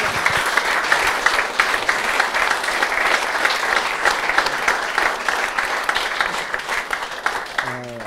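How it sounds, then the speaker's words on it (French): An audience applauds steadily and loudly at an event honouring a guest ambassador, continuous dense clapping for the whole stretch with a brief voice near the end. "Je crois qu'on peut encore l'applaudir vraiment."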